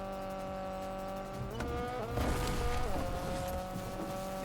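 A video game car engine drones steadily with a whining tone, shifting pitch as it revs, sustained throughout with no talking.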